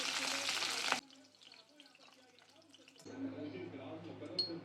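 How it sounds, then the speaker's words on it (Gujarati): Dried red chillies fry in hot oil, a loud close sizzle bursting at first, dropping to a soft crackle, then swelling back into a steady fry. "તો હું મરચાં તળી દઈશ।"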